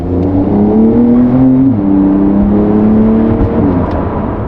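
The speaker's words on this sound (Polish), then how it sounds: "Jadę pierwszy raz tym autem po zimie." A car drives on its first outing after winter, its engine humming steadily and close, with a slight shift in pitch as it changes speed partway through.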